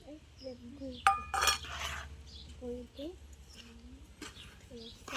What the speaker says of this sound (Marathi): पूर्ण व्यवस्थित हलवायचंय जेणेकरून सगळ्या भागामध्ये या तुपाचा अर्क उतरेल